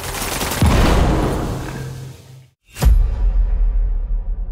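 Weapons firing in the video game Kvark: a rapid burst of gunfire, a sharp pause of near silence, then another heavy blast followed by rattling continued shots, loud and close.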